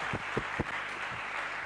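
A church congregation at a married couples' gathering applauds and cheers for Jesus, a dense, steady wash of clapping with a few sharper claps standing out near the start.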